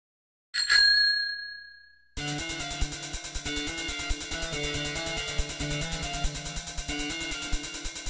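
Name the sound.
bell ringing sound effect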